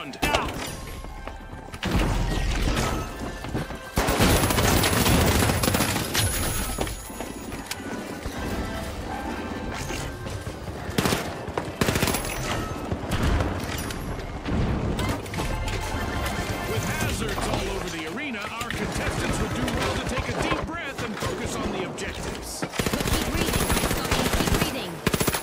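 Rapid machine-gun bursts and single gunshots from a video game shootout fill the stretch almost without pause, loud and dense, with impacts and crashes mixed in and a voice talking over the action.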